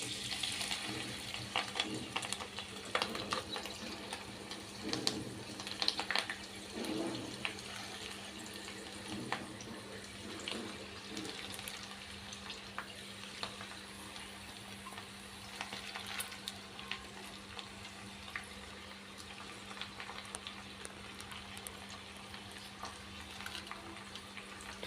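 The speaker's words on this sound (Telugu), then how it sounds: "ఇప్పుడు ఈ ఆకంతా కూడా స్టవ్ అనేది మీడియం ఫ్లేమ్లో ఉంచుకొని ఈ ఆయిల్లో చక్కగా ఫ్రై చేసుకుందామండి" Gongura leaves fry in oil over a medium flame on a stove, a faint steady sizzle with occasional stirring scrapes and clinks throughout, no voices.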